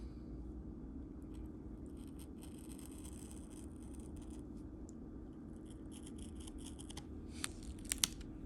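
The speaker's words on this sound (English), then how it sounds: "This time I'll use my ceramic blade." A ceramic blade slices through a clear diamond painting cover sheet, a faint, steady scratchy scraping under a low background rumble, ending in a few sharper ticks near the close.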